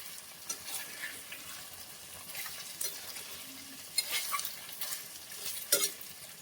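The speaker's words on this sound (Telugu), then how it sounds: "కొన్ని రొయ్యలు బిర్యానీలో వేయడానికి పక్కా తీసి వాటిని ఆయిల్లో వేసేస్తున్నారు" Prawns for a biryani frying in hot oil, a continuous crackling sizzle with occasional sharper pops and a metallic utensil clink near the end.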